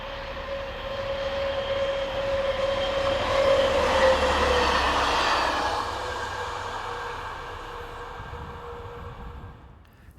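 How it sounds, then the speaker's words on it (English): Diesel locomotive number 69466 hauls a test coach along a European railway line, a steady droning rumble with a sustained tonal hum that swells as it nears and then fades away. "Four minutes later, and diesel, number 69466, follows hauling this test coach."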